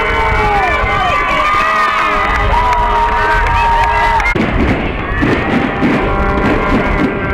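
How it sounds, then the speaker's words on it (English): Crowd cheering and shouting at a girls' high school soccer regional semifinal after a go-ahead goal, a loud sustained roar of voices with whistles and children's shouts, stretching into scattered cheers and chatter. "Crowd getting into it."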